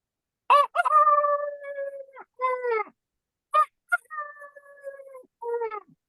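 A mimicry performer at a stage show imitates a rooster crowing with his voice, giving two long, drawn-out cock-a-doodle-doo calls with sharp clucking onsets, loud and close, separated by a brief pause.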